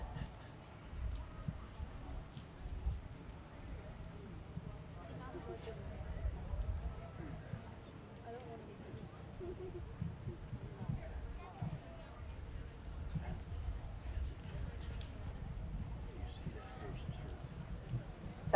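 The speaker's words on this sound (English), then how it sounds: "Jog your horses, please." Horses jogging at a western-class horse show in a 4-H fair arena, hooves clip-clopping in a soft, steady rhythm at mid distance with crowd murmur and a public-address voice throughout.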